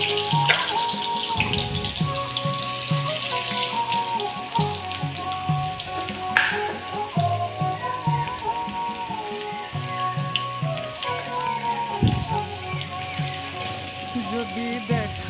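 Potatoes frying in a wok, a steady crackling sizzle heard close up beneath a continuous background of music.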